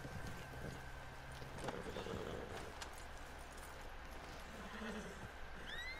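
Faint horse hoofbeats in the video game Red Dead Online clip-clop along at a steady pace amid a soft, busy background, with occasional light clatters and a brief whinny-like squeal.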